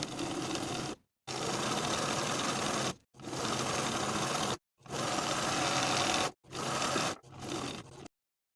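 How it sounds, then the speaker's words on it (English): A sewing machine edge stitches along the raw edge of a pair of elastic-waist pants in five steady runs of fast, even stitching, each broken by a brief silent pause. "Then we're going to edge stitch along the raw edge all the way around"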